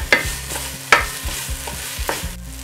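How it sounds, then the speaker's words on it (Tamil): Garlic and masala fry in a pan for dal khichdi as a spoon stirs: a loud, close, rhythmic scraping every half second or so over a constant sizzle, with no voices. "இந்த பூண்டு வந்து இந்த மசாலாவே நல்லா வதங்கி வரணும்"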